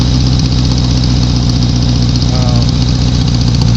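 Motorcycle engine idling steadily just out of a garage, a loud, even low rumble with constant vibration running throughout.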